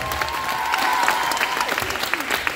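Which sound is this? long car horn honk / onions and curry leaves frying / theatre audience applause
theatre audience applause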